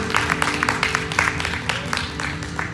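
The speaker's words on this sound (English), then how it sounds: "Can we just give God a hand clap of?" A church congregation claps, a dense, even patter of many hands at a brisk steady rhythm, moderately loud and continuous for a few seconds with a faint voice beneath.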